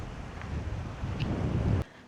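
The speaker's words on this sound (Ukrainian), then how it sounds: "Море сьогодні таке хвилюється" Rough sea waves and wind at a shore in Hurghada, Egypt: a steady broadband wash of surf under heavy wind noise on the microphone, continuous and fairly loud, ending abruptly.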